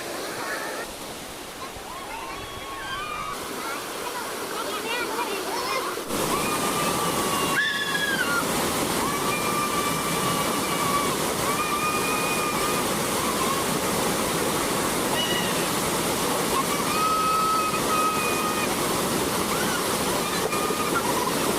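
A waterfall runs after the first rain in Chandrapur district, a dense, continuous rush of falling water that grows louder partway through and holds steady, with faint voices in the background.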